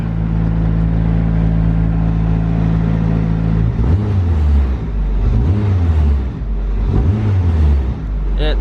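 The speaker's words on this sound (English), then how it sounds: "let's see if it makes that noise if I engage the clutch and rev it." A faulty project car engine idling steadily at first, then revved repeatedly with the clutch engaged, three rising and falling surges of loud, close engine roar with no talking.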